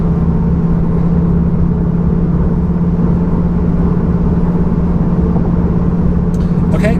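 Steady, hushed road roar inside a Cupra Formentor 310 cruising on concrete at about 70 mph, with a low constant tyre and engine hum throughout and a brief faint rustle near the end.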